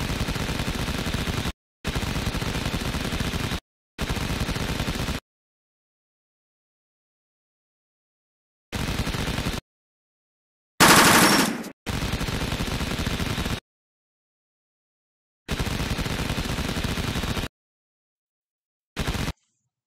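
Rapid machine-gun bursts from a minigun in a Lego animation: several sustained roaring blasts of a few seconds each, separated by silences, with one brief higher-pitched whine and a short final burst, loud and without talk.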